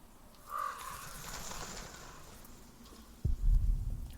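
Crows cawing in a snowy setting in the video game The Pillars of the Earth, a single harsh caw early on followed by quiet ambience and a low thump near the end.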